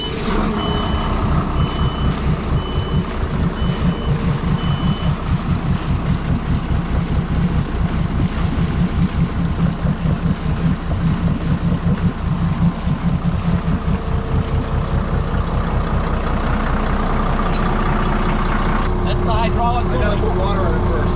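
A fishing boat's diesel engine pushed hard during a sea trial, a loud steady roar with a rapid throbbing pulse running throughout, steady beeping near the start, and voices speaking over it.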